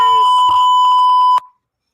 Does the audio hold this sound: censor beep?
yes